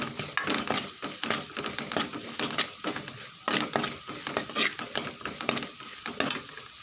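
Masala sautéed in oil in a pan for a sardine fish curry, being stirred over low heat: soft sizzling under repeated scraping and stirring strokes, close and irregular, with no talk.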